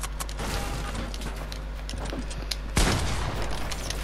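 A drum gun in the Fortnite video game fires a dense, continuous stream of rapid shots, loud and close, with a sharper heavy burst partway through.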